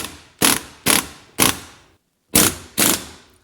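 Ratchet tightening a bolt on a BMW during a lowering spring fitting, five sharp, loud clicking bursts in an uneven rhythm with a brief pause before the last two, close up and without talking.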